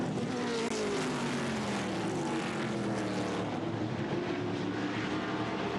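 An ARCA Menards Series stock car roars past on the Salem Speedway oval during a race, its loud, steady engine drone sliding down in pitch as it passes, with crowd and track noise blended underneath.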